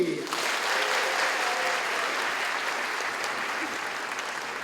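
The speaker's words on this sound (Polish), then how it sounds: "I pojedyncze oklaski" Applause from an audience at a religious festival event starts abruptly and carries on as a steady, dense wash of clapping without talk.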